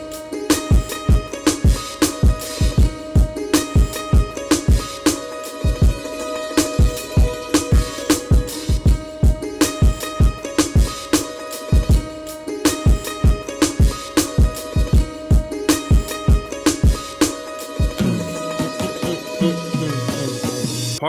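A hip-hop beat built on an Akai MPC from pitched-up sample chops, with hard punchy kicks and snares in a steady loop over the chopped melodic sample, loud and without talk, ending in a brief filtered tail.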